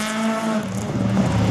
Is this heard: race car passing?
yes